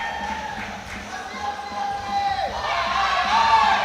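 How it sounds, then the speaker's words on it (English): An Australian crowd at an international classic powerlifting championship cheers and shouts, swelling louder toward the end, with a commentator talking over the noise. "the Australian crowd are getting riled up"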